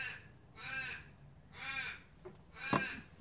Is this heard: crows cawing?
yes